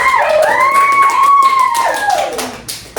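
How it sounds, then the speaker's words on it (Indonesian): A group clapping for Mas Hasan in a talent test session, scattered claps heard alongside a prominent whistling, sliding tone that dominates the sound. "Tepuk tangan dulu untuk Mas Hasan"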